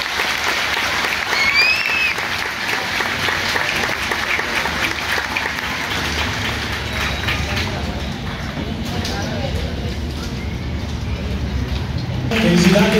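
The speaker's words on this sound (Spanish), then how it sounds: "fuerte el aplauso para ella," Steady applause from a crowd at a choral concert fills the clip, a dense even patter of many hands clapping, swelling slightly toward the end.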